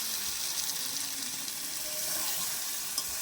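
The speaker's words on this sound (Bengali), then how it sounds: "এবার আমি একটু সামান্য জল দিয়ে দেবো" A little water added to a cooking pot of spiced jackfruit biryani masala, a continuous hissing, bubbling rush that blends sizzle with splashing, steady and close with a couple of faint clinks.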